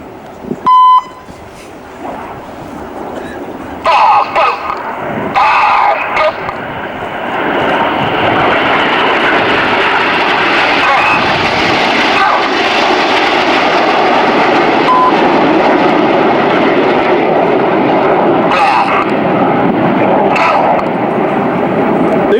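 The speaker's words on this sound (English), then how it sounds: "you'll see each aircraft enter a very hard pull as they perform the opposition loop" Hawker Hunter jet aircraft flying at an airshow, a loud, sustained roar building after a few beeps and swelling into a long, broad jet rush as they pass.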